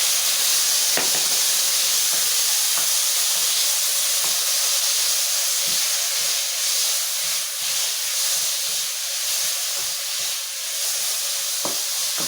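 Tomatoes sizzling in oil in a hot frying pan, a loud constant bright hiss with occasional soft clicks and pops from stirring, and no voices.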